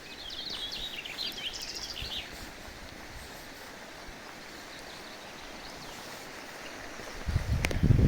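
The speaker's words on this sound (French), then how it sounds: "Et là, on a un petit ruisseau qui passe." Small stream flowing beside a road in Auvergne, a soft steady rush of water heard from nearby, with chirping birds early on and a louder rumble near the end.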